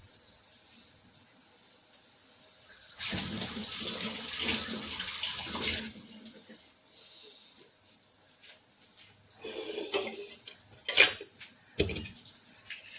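Dishes being washed under a running kitchen tap, a broad rushing water burst for about three seconds followed by quieter trickles and a few sharp clinks of utensils near the end, close and without talk.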